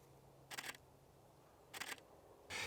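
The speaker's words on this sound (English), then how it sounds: "With the mirrorless camera, you've got mechanical shutter" Canon R6 mirrorless camera mechanical shutter firing three times, each a quiet, crisp double click in a quiet room, spaced over about two seconds.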